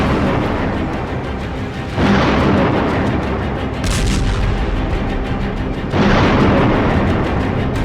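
Bombs explode in Gaza during an Israeli air force bombardment. Two heavy, loud booms lift a constant roaring rumble, with a sharper burst between them.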